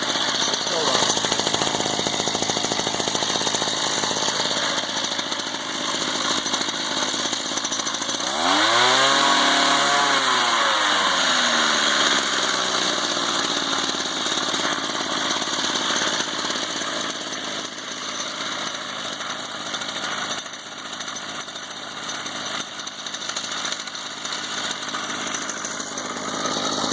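A BladeZ Moby XS 33cc gas scooter, an old machine from around the 1980s, runs in cold outdoor air with a steady, rough two-stroke buzz lasting throughout, with a brief revving swell partway through.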